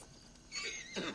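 Del Lobo horse in Red Dead Redemption 2 giving a brief high whinny, two short squealing bursts close by and fairly faint.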